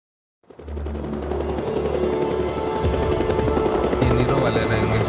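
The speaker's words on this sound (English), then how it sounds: "Chopper kahan se aaya idhar?" Helicopter in the video game Days Gone, a loud, steady rotor roar that rises abruptly and holds throughout, with bursts of gunfire-like crackle mixed in.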